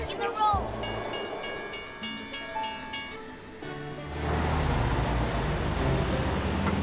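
A cartoon little train moves along: bright horn-like tones and rhythmic clacks at first, then a steady rumbling roll that fills the rest, up close and fairly loud.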